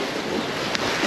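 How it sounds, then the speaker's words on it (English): Sea waves wash and splash along a coastal shore, a continuous, close rushing hiss mixed with wind buffeting the microphone. "the waves are splashing my feet"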